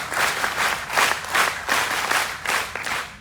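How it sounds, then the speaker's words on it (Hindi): An audience claps steadily and loudly in rhythmic waves of applause, with no talk over it. "जोरदार तालियां बनती है इसलिए"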